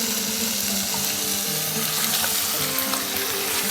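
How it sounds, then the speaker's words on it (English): Meat for Lucknowi nihari searing in a pot over a full flame, a loud, steady broadband sizzle throughout with faint stirring scrapes and no talk. "And sear this for about 10 minutes on full flame."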